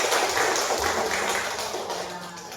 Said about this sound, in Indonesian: Tepuk tangan dulu untuk ibu kader.